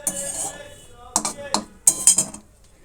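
Crisp fried neem leaves being transferred into a bowl in a home kitchen, heard as a few short metallic clinks and scrapes of a utensil against the dish, spaced irregularly over quiet background.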